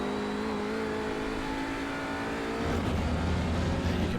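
A TCR touring race car engine at Summit Point in iRacing holds a steady droning tone, then swells louder and rougher as the throttle opens and the car accelerates, with no talk over it.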